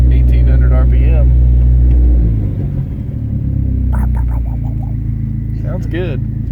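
Dodge SRT-4 with a newly fitted exhaust held around 1800 RPM, a loud, deep droning rumble that eases slightly after a couple of seconds and keeps running steadily while people talk over it.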